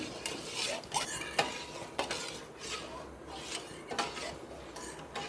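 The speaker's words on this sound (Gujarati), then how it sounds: "આ રીતે હલાવીને ચાસણી તૈયાર કરી લઈશું।" Sugar syrup for gulab jamun being stirred in a pan with a spoon, giving faint, rhythmic scraping and clinking of metal against the pot over a soft background hiss.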